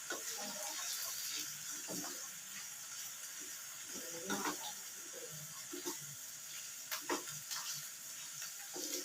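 Potato pieces fry in a pan of hot oil, giving a steady loud sizzle and hiss with occasional stirring clatters and knocks from a utensil, with no voices.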